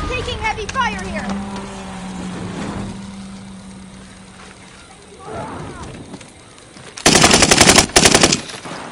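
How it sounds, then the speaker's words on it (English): Heavy gunfire in a battle-royale style video game, with mechanical and voice-like game sounds early on, then loud bursts of rapid automatic fire near the end. "Taking heavy fire here."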